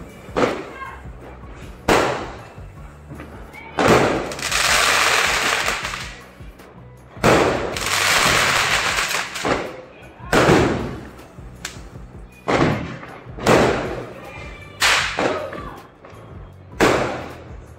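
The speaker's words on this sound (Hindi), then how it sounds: "ये कॉलोनी मस्त पटाखे चल रहे थे" Firecrackers burst across a residential colony during Diwali, sharp loud bangs at irregular intervals with crackling tails and long noisy rumbles, some near and some farther off.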